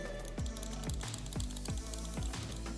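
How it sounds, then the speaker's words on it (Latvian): An Asus ROG Chakram mouse with white Omron switches is clicked repeatedly, about six crisp, close, evenly spaced clicks over a faint background hum, with no talking. "Un arī klikšķēšanas skaņa man ir nedaudz patīkamāk tieši šī."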